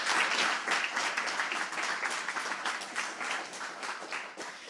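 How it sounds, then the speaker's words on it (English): A conference audience applauds after a talk, with dense, steady clapping that stays loud throughout and tapers slightly toward the end. "I think definitely deserves a round of applause from everyone here."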